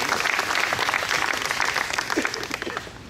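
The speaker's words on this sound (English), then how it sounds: "Another round of applause." Sustained round of applause from the audience at a town swearing-in ceremony, a dense steady wash of many hands clapping that holds for the whole stretch and eases slightly at the end.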